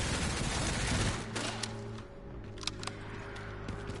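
Enemy gunfire in the survival-horror video game Resident Evil Requiem, played on Insanity difficulty: a dense fusillade of loud shots and booms in the first half, easing into scattered sharper reports over a low steady hum.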